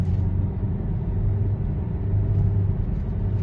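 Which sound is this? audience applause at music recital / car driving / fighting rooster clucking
car driving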